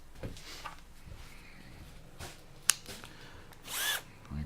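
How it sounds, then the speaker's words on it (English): A short, faint whirr of a power drill fitted with a Centrotec chuck spinning up near the end, after quiet handling noises. "And the other drill."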